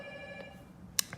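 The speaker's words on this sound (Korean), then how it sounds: "전화 와도 끊지 않아요" A telephone rings during a classroom lesson: a brief, bright ring bursts out near the end after a quiet stretch of room tone.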